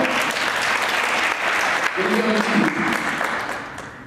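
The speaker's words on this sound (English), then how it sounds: "Give her one last round of applause." An audience at the IMEX Future Leaders Forum gives a sustained round of applause, steady clapping that holds for several seconds before tapering off, with a voice briefly heard partway through.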